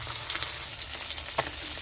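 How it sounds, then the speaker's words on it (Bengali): Koi fish frying in hot oil: a steady, close crackling sizzle with a few sharper pops, and no talking. "একটা সাইড কিন্তু ভালো মতো ভাজা হয়ে গেছে, আর একটা সাইড ভালো মতো ভাজা হবে"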